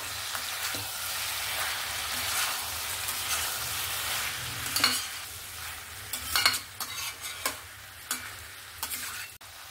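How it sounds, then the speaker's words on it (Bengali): Jackfruit, potatoes and prawns are stirred with spices in a pan. A continuous sizzle of frying runs throughout, with scraping stirs and several sharp clinks of the utensil against the pan toward the end. "এবার এটাকে মিক্স করে নেব মশলার সঙ্গে ভালো করে।"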